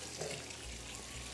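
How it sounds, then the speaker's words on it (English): Tap water runs into a cooking pot holding ribs and fish sauce, a faint, steady stream of gurgling flow at low volume with no talking. "So now I'm gonna fill the rest of this up with some water."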